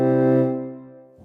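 A virtual harmonium note with a 200 millisecond decay sounds alone, a rich reedy chord that swells, fades to a softer sustained level, and cuts off, a brief low murmur following.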